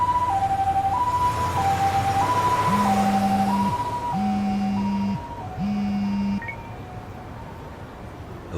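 Ambulance siren in the Lost Judgment video game, a loud two-tone wail alternating steadily for several seconds over background game music, with a higher electronic tone joining partway through.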